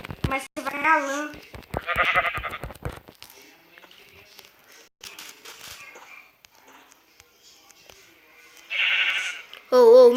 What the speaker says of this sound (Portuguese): Olha lá uma ovelha, é minha.